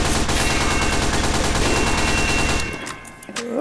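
Sustained submachine gun fire in a two-player duel shooter game, a loud rapid stream of shots that cuts off sharply near the end, followed by brief quieter game sounds.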